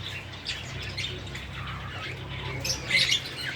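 Pet cockatiels kept in cages squawk and chirp nearby over a steady low room hum, with a louder burst of shrill calls toward the end.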